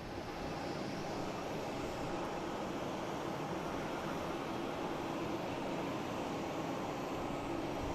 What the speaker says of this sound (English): next to arrive, we have United Airlines coming in from Chicago, an A321 Neo